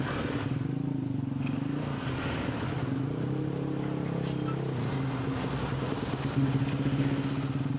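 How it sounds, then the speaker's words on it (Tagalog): A motorcycle engine drones steadily nearby, a low humming tone that shifts slightly in pitch and swells a little louder toward the end. "Ingay naman ng motor."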